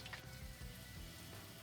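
Gluten-free bammy frying in coconut milk in a pot, giving a steady low sizzle and bubbling with faint scraping, quiet and continuous with no voices.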